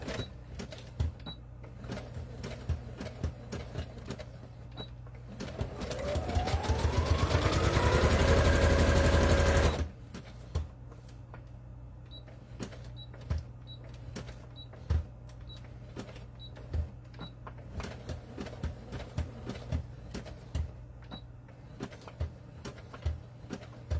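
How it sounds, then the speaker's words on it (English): A sewing machine whirs up to speed and runs steadily for a few seconds before stopping, loud and near, surrounded by quieter ticks and handling sounds. "I happen to have my sewing machine handy."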